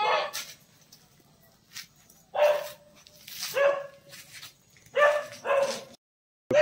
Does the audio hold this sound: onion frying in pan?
no